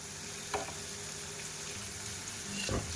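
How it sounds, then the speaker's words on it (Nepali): Peas and tomatoes frying in a pan with cumin powder and salt, a steady low sizzle with a couple of brief stirring scrapes, close and moderately quiet, no talking. "अब चाहिँ मटर टमाटरलाई चाहिँ 5 मिनेट पकाउँदै छु म चाहिँ"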